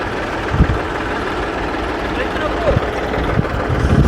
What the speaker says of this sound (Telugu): ఇక్కడైతే మనకు ట్రాక్టర్ అయితే స్టార్ట్ చేశారు